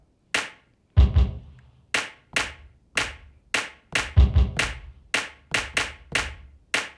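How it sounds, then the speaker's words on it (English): A punchy clap sample layered into a hip hop beat repeats in a steady rhythm, each sharp hit decaying quickly, alongside a few deeper booming drum hits, loud and close with no talking. "So I augmented it with a clap."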